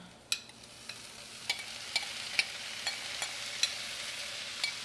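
Corn stirred in a frying pan with a soft sizzle underneath, marked by a series of faint, irregular clicks and scrapes of a utensil against the pan, with no talking.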